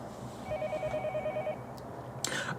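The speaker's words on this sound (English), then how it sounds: "The phone rang and I didn't know where the call was coming from" A telephone rings in a tense, quiet room, with a single electronic ring tone lasting about a second, followed by a brief sharp clatter near the end.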